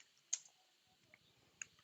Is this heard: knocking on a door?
no